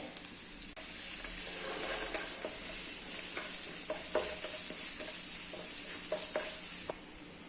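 Four crushed garlic cloves and curry leaves hit hot oil in a pan for an elephant foot yam stir-fry, setting off a sudden steady sizzle with intermittent stirring clicks that fades near the end.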